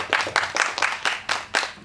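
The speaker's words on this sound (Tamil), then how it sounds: "பத்திரிக்காரன் நீயே கைத்தட்டலாம்" Journalists clapping at a press event for a film teaser release, with six or seven bursts of applause arriving in an uneven rhythm, close and fairly loud, with no talk over it.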